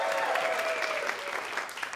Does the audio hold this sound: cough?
no